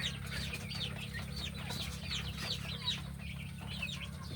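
Farm chickens cluck softly and repeatedly, several birds close by in a quiet, steady murmur with no voices.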